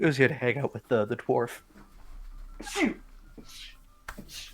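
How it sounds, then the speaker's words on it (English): Someone speaks briefly, then after a pause a single sharp sneeze bursts out, followed by a faint breath or sniff. "Sorry, I'm sneezing."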